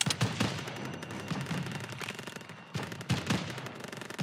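Rapid World War II weapon fire in Call of Duty WWII, two bursts of quick repeated shots separated by a short pause, moderately loud and close amid battle noise.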